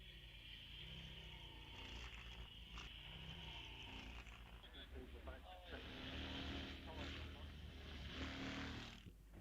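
A vintage sports car with a solid back axle and no differential launches off the line at the Wiscombe Park hillclimb, its engine revving and roaring loudly and steadily, with a commentator talking over it.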